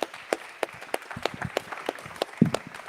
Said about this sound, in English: Clap it for Kemish,